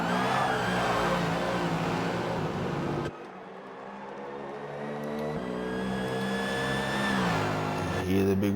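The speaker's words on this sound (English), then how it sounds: "You hear the big whine of the superchargers on the Mustangs." High-pitched supercharger whine from Mustang Gen 3 Supercars racing at Bathurst in Forza, rising and falling in pitch as cars pass, with a brief dip midway before the whine returns strongly.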